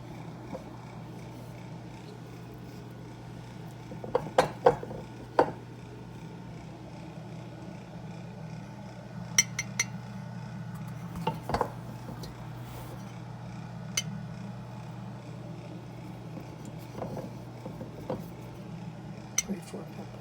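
Soft pickled peppers are laid into a glass jar in a home kitchen, with scattered light clinks and taps of glass and rustling against a steady low hum, quiet and close with occasional sharper knocks.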